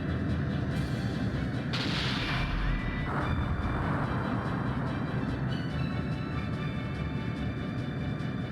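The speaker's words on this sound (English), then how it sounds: "Cannon goes pew. Yeah, it does. And it hits like a truck, too." Heavy cannon fire from the space combat game Rings of Arcadia, with booming shots that run close and loud over a dense, continuous roar of game noise.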